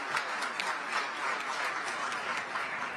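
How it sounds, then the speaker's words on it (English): Audience applause at the COP29 United Nations climate conference in Azerbaijan, steady dense clapping from a large hall heard at a distance, continuing evenly throughout. "give a big round of applause for the work they've done to bring us here."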